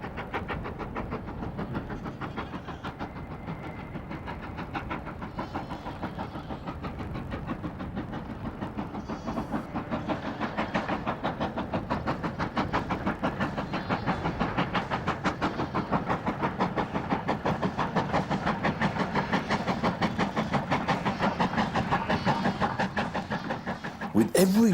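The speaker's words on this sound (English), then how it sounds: "welcome the train back to their valley" Weardale Railway train running through the Weardale valley in the North Pennines, England, a steady continuous rumble that builds slightly and holds throughout, with a voice speaking over it.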